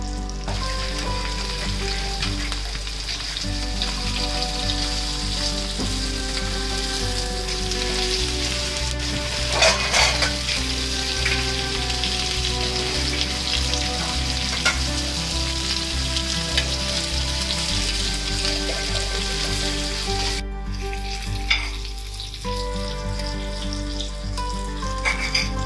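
Malvani-style surmai fish pieces frying in a pan, a loud dense crackling sizzle sustained throughout with scattered sharper pops and occasional turning noises.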